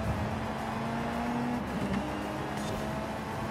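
A Ford rally car accelerates in a driving game, its engine a steady, loud drone that holds throughout with slight pitch shifts and no talking over it.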